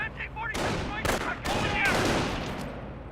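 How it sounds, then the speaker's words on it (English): Rifle and machine-gun fire crackles in repeated sharp bursts in the World War II strategy game Company of Heroes, loud and close with echoing tails, with a voice heard briefly. "They're firing on our position!"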